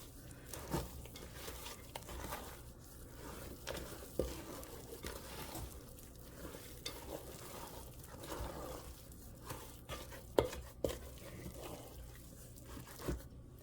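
Chocolate chips are worked into thick cookie dough by hand, a run of soft, irregular squishing, scraping and crinkly rustles up close, quiet and wordless.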